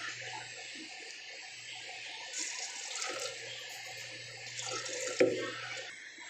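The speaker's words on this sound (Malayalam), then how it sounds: "ഇത് അരയ്ക്കാനുള്ള വെള്ളം കൂടി നമ്മൾ ഇതിനൊപ്പം ഒഴിക്കുകയാണ്" Water is poured into a mixer grinder jar for grinding a curry paste, a soft, faint trickle and splash at close range with a brief clunk near the end.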